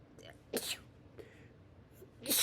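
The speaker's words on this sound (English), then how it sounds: "I kind of have like weird chipmunks sneezes." Small, squeaky, high-pitched sneezes from a person sit close to the mic but quiet, with a couple of sharp bursts separated by soft breathy sounds.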